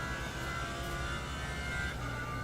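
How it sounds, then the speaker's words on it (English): Lamborghini race car in Assetto Corsa Competizione at Le Mans, Circuit de la Sarthe, its engine held in a steady loud drone as the driver modulates the throttle, with a sustained high whine over it and no talk. "Just listen to him play that throttle in this Lamborghini"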